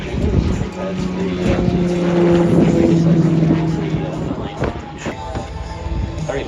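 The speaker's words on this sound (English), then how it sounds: "very versatile helicopter" Sikorsky and Lockheed Martin helicopter, a 400 horsepower training machine, flying at the Avalon Australian International Airshow, its steady rotor and engine drone loud and sustained under a commentator's voice.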